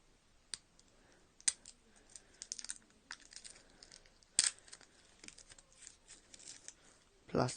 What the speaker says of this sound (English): Take this plastic off first.